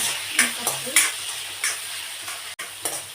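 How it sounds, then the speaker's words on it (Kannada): Onion sizzling and frying in hot oil in a home kitchen, a steady crackling hiss broken by several sharp stirring scrapes from a spoon in the pan, close and moderately loud. "ಎಣ್ಣೆಗೆ ಒಂದು ಒಂದು ಈರುಳ್ಳಿ ಹಾಕೋಣ"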